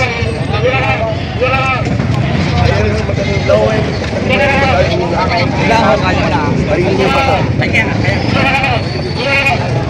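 Goats and sheep bleat repeatedly throughout a busy livestock market in Padre Garcia, Batangas, with overlapping calls near and far over steady crowd noise and people talking.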